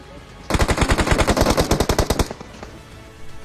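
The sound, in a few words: gunfire in the video game PUBG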